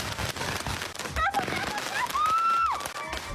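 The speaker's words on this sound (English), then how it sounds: "Thanksgiving fireworks gone wrong." Thanksgiving fireworks go off close by in a dense crackling barrage, with whistling rockets rising and falling through the steady loud noise.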